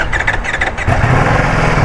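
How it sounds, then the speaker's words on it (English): A 2025 Ducati Panigale V4 motorcycle cold-starts on a freezing day: a short starter whir, then the engine catches and runs with a loud, close, steady rumble and no talking. "let's get a first start on the 2025 Panigale V4"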